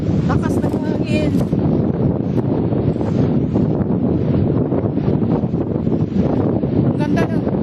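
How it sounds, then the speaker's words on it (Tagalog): Strong coastal wind at Cape D'Aguilar buffets the microphone with steady loud roaring gusts, with occasional brief voices and rustling mixed in. "Lakas na hangin."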